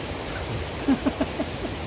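Stream water flows through Chilseon Valley in a steady, soft broadband rush, with a few faint knocks near the middle and no voices.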